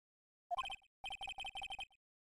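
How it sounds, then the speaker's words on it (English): A phone ringtone in the Phoenix Wright video game rings in quick bursts of electronic tones, one short burst followed by a longer run of rapid pulses, clear and alone. "I bet it was this ringtone that caused it."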